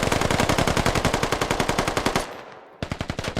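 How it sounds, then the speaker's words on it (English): Rapid automatic gunfire in a tactical shooter game, fired at a brick wall: a steady, loud burst of evenly spaced shots that stops abruptly, pauses briefly, then resumes. "I wonder if you can shoot through these bricks."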